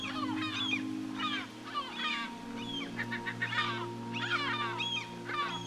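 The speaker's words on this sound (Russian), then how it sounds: "Конечно же, это халей." Long-tailed ducks call repeatedly in a series of nasal, yodelling cries, some overlapping, at moderate distance over a steady low drone, with no talk.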